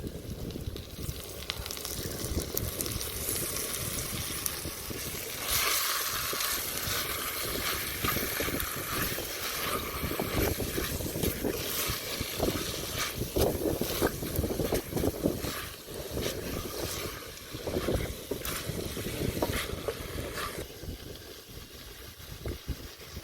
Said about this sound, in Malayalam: ഇതിലേക്ക് നമുക്ക് മസാല പുരട്ടി വെച്ചിരിക്കുന്ന ചിക്കൻ ഇട്ട് കൊടുക്കാം